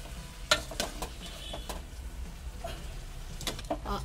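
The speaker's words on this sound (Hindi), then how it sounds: "गोभी डाल के अच्छे से मिक्स भी करना है" Cabbage with spices is stirred in a pan while it fries: soft scraping strokes come at an irregular pace over a steady low sizzle, close and fairly quiet.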